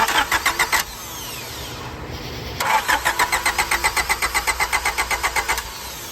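A Honda Prelude with a loose starter solenoid terminal cranks in quick rhythmic pulses, pauses for a moment, then cranks again in a long, steady run of loud, close chugs.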